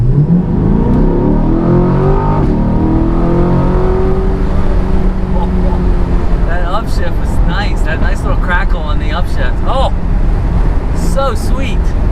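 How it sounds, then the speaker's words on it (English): A 495 hp Chevrolet Corvette C8 with the Z51 package accelerates hard, its engine note climbing steadily in pitch and staying loud and close throughout, with excited talk from inside the car over the later part. "we're gonna give it the beans in the C8"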